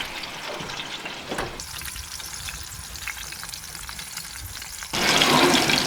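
Beef tallow sizzles and crackles as it melts in a small covered pan, a steady fizzing hiss that grows louder and brighter near the end, with no one speaking.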